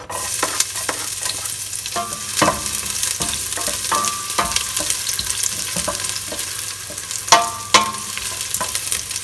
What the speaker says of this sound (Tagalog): umpisahan po natin igisa ang bawang at sibuyas